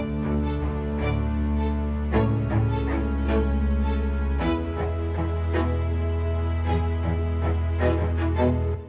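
String section from a song playing sustained, layered chords with a deep low register, moderately loud and continuous, shifting harmony every couple of seconds.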